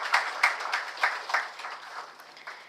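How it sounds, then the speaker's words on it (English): Scattered applause at a pharmaceutical company's stock listing ceremony, a handful of separate claps in an uneven rhythm that thin out and fade over a few seconds, fairly quiet and indoors. "give a huge round of applause for yourselves and for this beautiful day here"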